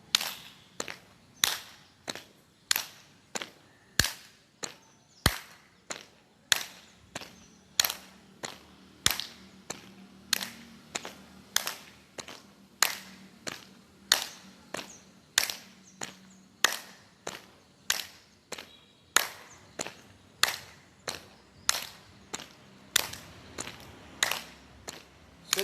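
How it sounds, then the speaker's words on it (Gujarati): Hands clap repeatedly during an exercise session, counting up to fifty: sharp, evenly spaced claps in a steady rhythm, clear and close, with little else around them. "આ રીતે આપણે તાળી પાડી લઈએ"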